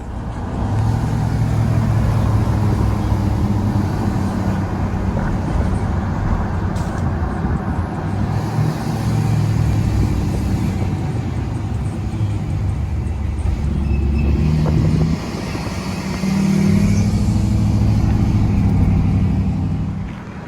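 Ford 6.0 Powerstroke diesel truck driving up the road, heard as a steady low engine drone and road rumble from inside, with a brief dip mid-way before the engine note picks back up.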